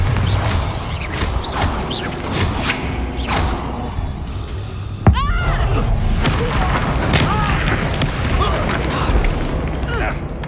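In the video game Hogwarts Legacy, the Bombarda spell goes off as a loud booming blast with a sharp crack in the middle. Rumbling debris and mechanical clatter surround it, and a voice calls out over the noise.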